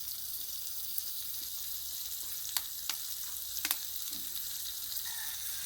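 Chicken liver pepper fry sizzles steadily in a pan, a soft continuous frying hiss broken by a few faint ticks and light clicks, close and fairly quiet with no talking.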